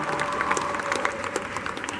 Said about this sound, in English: You can applaud all you want.